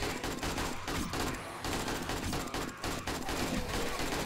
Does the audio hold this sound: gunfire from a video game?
yes